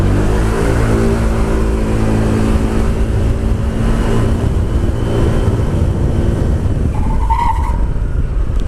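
A Honda PCX 125 scooter's tires screech under hard braking, a loud continuous squeal over road and engine rumble close to the rider.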